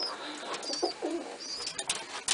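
Pigeons in a breeding loft coo with soft, throaty calls, several overlapping phrases close by over a couple of seconds.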